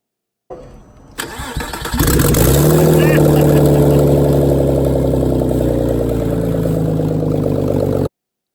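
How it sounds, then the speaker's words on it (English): A 2001 Porsche Boxster 986 engine, freshly reinstalled in a home garage, cranks briefly, catches and fires up, then settles into a loud, steady running idle close by. "we're ready to fire this bad boy up and see how well we did and if it's going to run"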